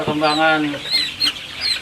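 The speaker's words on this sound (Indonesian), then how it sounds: "anak ayam Sultan Udin. Nah, itu lagi dikasih makan tuh." Sultan Udin village chickens being fed on a farm breeding superior free-range kampung chickens: a near, harmonic clucking call opens, followed by several shorter chirps and clucks from the flock.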